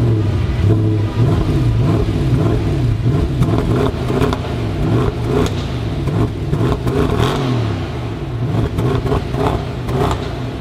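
Mercedes E63 AMG V8 revving hard outdoors, a loud continuous engine roar with rising and falling revs and scattered exhaust pops and crackles throughout, no talking.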